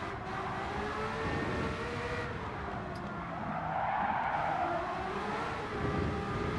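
A Ferrari 812 circles the Nordschleife in a racing game, its engine drone steady and close with a falling then rising pitch through corners, tires hissing and squealing throughout.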